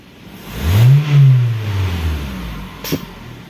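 A noisy Toyota Camry engine revs up once in a loud, rising-then-falling swell lasting about two seconds, followed by a brief sharp sound near the end.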